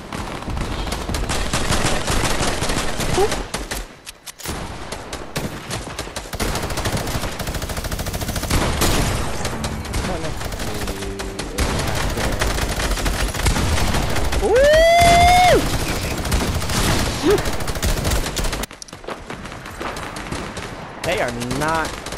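Rapid automatic gunfire and bursts of shots from Fortnite gameplay, loud and nearly continuous, with a player shouting over the shooting.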